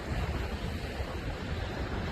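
Small, low-powered Gulf of Mexico waves break on a Florida beach, a soft continuous wash of surf with wind rumble on the microphone, steady and fairly faint, with no voices.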